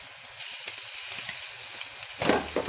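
Crab cakes frying golden brown in oil in a pan, a steady close sizzle and hiss with a burst of louder crackling and stirring near the end.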